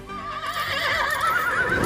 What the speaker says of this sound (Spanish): lo que escuchamos en la cinta son caballos reales